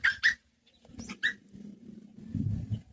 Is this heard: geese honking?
no